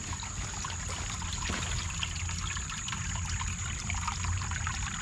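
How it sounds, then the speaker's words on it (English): Creek swollen after heavy rain, flowing steadily as a continuous broadband rush of water with low rumble, close and constant throughout with no talk. "I love seeing the creek, you know, fill up with water and flow"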